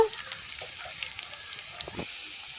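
Onion, garlic and green chili paste frying in a pan for a kochur loti dish, giving a steady close sizzle with a few faint scrape and stir clicks, no talking.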